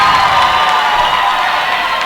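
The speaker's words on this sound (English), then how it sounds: "The crowd was really getting into it as far as the chants." Indoor crowd at a girls' high school basketball game, Winner Lady Warriors against Todd County Lady Falcons, cheering steadily and loud, a dense continuous roar with shouts rising out of it and no clear break.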